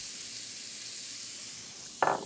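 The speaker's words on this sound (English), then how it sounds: "So next in is some onion" Chopped onion sizzles in shallow oil in a hot pan; a steady frying hiss runs under the clip, then a sharp louder burst of sizzling near the end.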